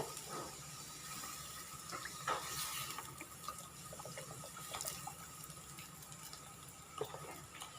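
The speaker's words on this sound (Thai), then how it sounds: "เริ่มเดือดแล้วนะคะ" A milk-based curry liquid for a pork-ball and chicken-feet curry-paste stir-fry starts to boil in the pan. It gives a soft, continuous bubbling with scattered faint pops and light stirring clicks.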